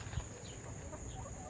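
Backyard chickens on Long Island in late August, soft faint clucking against a steady background hum, brief and without talk.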